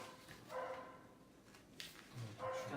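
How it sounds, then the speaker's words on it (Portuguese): A dog barks a few times at a distance, faint muffled woofs rising over a low indoor hum, with the barks spread out unevenly across the moment. "O cachorro resolveu latir."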